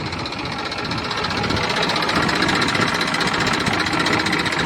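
A Massey Ferguson 245 tractor engine idles steadily and close by, a continuous mechanical rumble with a faint rhythmic knock throughout.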